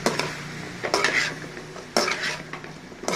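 Cauliflower sautés in a pan with ginger-garlic paste, a moderate sizzle punctuated by repeated clinking scrapes of a spoon stirring roughly once a second.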